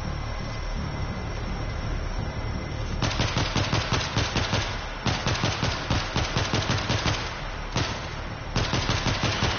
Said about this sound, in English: I set up a stationary gun.